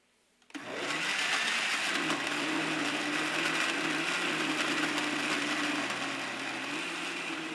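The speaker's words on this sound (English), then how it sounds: "Now blend everything together until you have a well-mixed liquid paste." A kitchen blender whirs steadily at close range, blending curry paste ingredients with a splash of water into a liquid paste; the motor starts abruptly and then runs loud and continuous with no talking.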